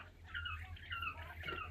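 Young quail, nearly four weeks old, chirp in a brooder, giving faint, high, repeated peeping calls against a low steady hum.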